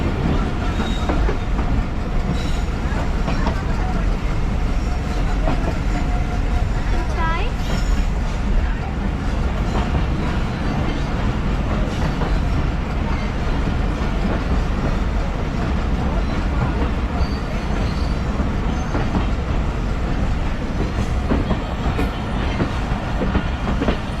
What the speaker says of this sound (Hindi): ट्रेन हमारी बख्तियाराबाद डोमकी की तरफ रेलवे स्टेशन की तरफ अप्रोच बना रही है।